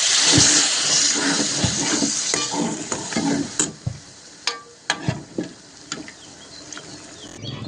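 Boiled ridge gourd is stirred into sizzling black masala in a pan, a loud frying hiss giving way to a run of scraping stirring strokes at close range.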